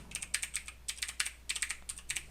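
Quick bursts of keystrokes clatter on an Apple IIe computer keyboard while a word is entered in a high-resolution text adventure game, close and crisp in irregular clusters with short pauses.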